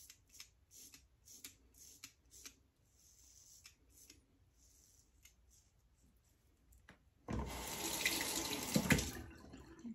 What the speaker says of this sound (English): Rinse is easy, no problems there.